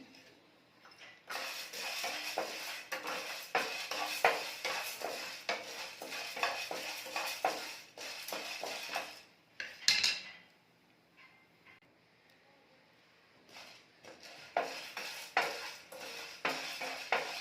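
Chana dal dry-roasting in a pan for homemade bisi bele bath powder, with rapid repeated scraping and rattling of a spoon stirring the lentils, close and lively, pausing midway before stirring resumes.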